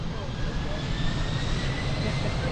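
An airliner's jet engines roar at takeoff power on runway 02 at Lisbon Airport, a broad steady rumble held at a constant level from start to finish.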